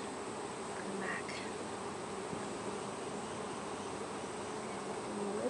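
Honey bees drone steadily in an open hive while frames are lowered back into the box. The buzzing is close and unbroken, joined by a few faint knocks of wood, with no speech.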